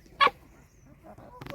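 Chickens being given a bath on a Maharashtrian goat farm, a single short squawk followed by a pause and a couple of quieter clucks, heard close by.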